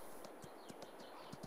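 Video game horse hooves: rhythmic clip-clop of trotting at a steady pace, fairly close, with a faint constant background hum.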